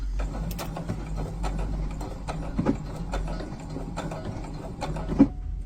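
A sewing machine stitches a shirt collar, a close, moderately loud rapid mechanical clatter with a steady ticking rhythm over a low hum, with a few small knocks.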